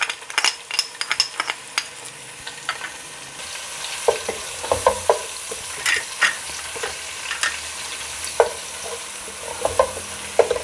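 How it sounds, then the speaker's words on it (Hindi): Ginger and garlic paste fry with onions for a pulao, giving steady sizzling under the repeated scrape and clatter of a spoon stirring the pan, with no talking. "1 चम्मच जाएगा लहसुन पीसकर"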